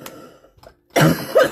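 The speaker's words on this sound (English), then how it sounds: "I cannot get rid of my cough." A single harsh cough rings out close by, preceded by a few quiet breaths and small sounds.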